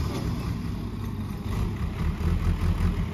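Tractor engine running while stuck in a pit, a low rumbling idle with a steady drone that swells slightly toward the end, close and alone without talk.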